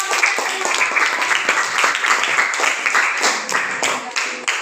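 Students clapping in a classroom, a dense, steady patter of many hands that fills the room continuously from start to finish.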